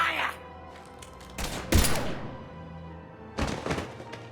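Bursts of gunfire in the video game Mass Effect 3: a few sharp thuds and cracks spaced over a few seconds, with a short exchange of voices and quieter background between the shots.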